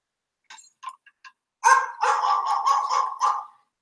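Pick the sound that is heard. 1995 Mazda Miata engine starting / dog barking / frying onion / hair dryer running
dog barking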